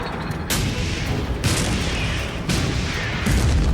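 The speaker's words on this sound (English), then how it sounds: "The Shermans open fire." Sherman tanks firing their main guns in battle against panzers on a hill, heavy booming blasts roughly once a second over a dense continuous roar of gunfire and rumble, loud and close.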